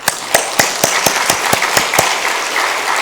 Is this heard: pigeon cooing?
no